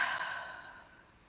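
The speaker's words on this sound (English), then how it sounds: "let's take a few deep breaths" A single deep breath out during a guided breathing exercise, soft and close, a breathy exhale trailing off over about a second.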